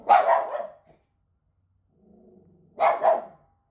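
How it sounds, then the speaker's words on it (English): A dog barks in two loud, close bursts, each a quick double bark, separated by a quiet pause with a low growl just before the second burst. "Fucking dog barks at everybody."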